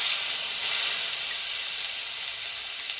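A paste of green chili, ginger and cumin seeds hits hot tempered oil with turmeric and sizzles in a loud, steady, close hiss that holds evenly throughout.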